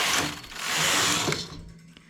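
A domestic knitting machine carriage sweeps across a row, producing a continuous whirring, rattling slide that builds and then stops, close and fairly loud, followed by quieter clicks.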